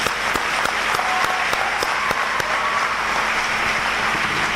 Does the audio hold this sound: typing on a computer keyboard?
no